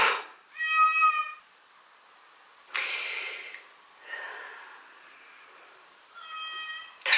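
A house cat meows several times, with short, clear, high-pitched calls spaced apart in a quiet room, close by, and a few soft snorts or breaths in between.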